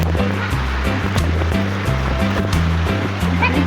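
River water flowing steadily near a rural footpath in Sitio Bilad, a continuous rushing wash that fills the clip loudly and evenly, with low rumbling tones beneath and no speech.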